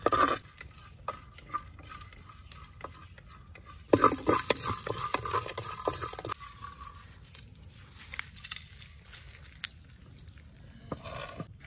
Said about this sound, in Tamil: முழு மல்லியும் முழு வத்தலையும் நல்லா வறுத்து எடுத்து வச்சுக்கணும்.